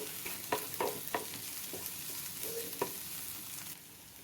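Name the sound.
onions frying in a pan for fish sambol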